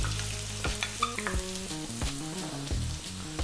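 Onion, carrot and green beans stir-frying over above-medium heat, a busy close sizzle broken by repeated tossing and stirring clatters, with no talk.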